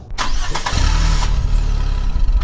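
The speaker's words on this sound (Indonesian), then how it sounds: "Angkot pun maju." An angkot minibus engine cranks and catches, then settles into a steady, loud idle rumble as it begins to move off, heard up close with no voices.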